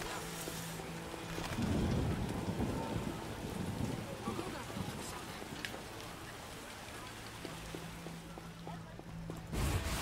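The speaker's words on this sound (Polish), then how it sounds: "W czasie deszczu robi się smutno." Steady rain pours through a rainy scene in the video game The Witcher, with a low rumble of thunder swelling near the start and again at the end, the downpour continuous and fairly loud throughout.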